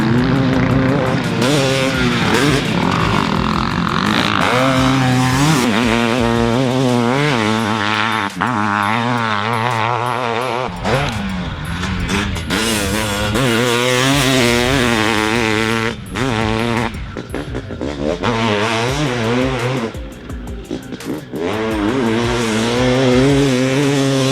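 A Millar Race Engineering KTR 500cc two-stroke motocross bike, built on a Honda CR500, rips around the Glen Helen National Track, its engine revving hard and wavering up and down through gear changes, loud and near throughout.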